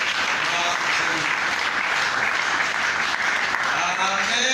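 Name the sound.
audience applause in church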